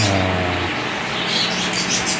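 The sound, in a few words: pet birds chirping at feeding time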